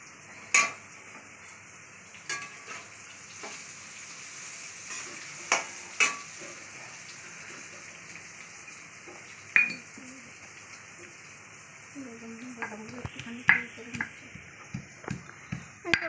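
Paneer being mashed and mixed in a bowl for kofta, with soft scraping and occasional sharp clinks of a utensil against the dish, faint kitchen hiss in the background and no talk.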